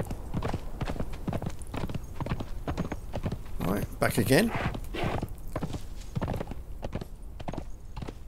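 Horse hooves clip-clop in the video game Conan Exiles as a mount travels through snowy terrain, the steady rhythmic footfalls continuing under a voice, with a brief whinny-like cry in the middle.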